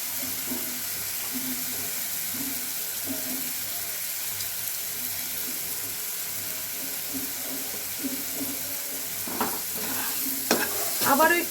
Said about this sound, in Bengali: আবারও একটু নাড়াচাড়া করে নেব।